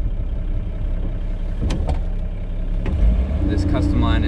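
A 1954 Ford Customline's engine runs at a low, steady rumble while the car pulls over, with a couple of brief clunks and voices talking over it near the end.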